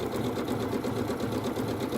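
A Janome sewing machine fitted with a circular attachment stitches steadily, its fast rhythmic needle chatter continuous and close throughout with no voices.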